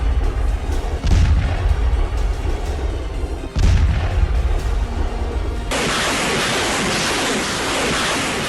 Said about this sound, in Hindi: नॉन स्टॉप बमबारी चल रही है।